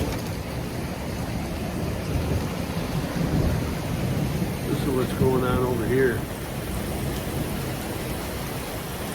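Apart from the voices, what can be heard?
thunderstorm with thunder and rain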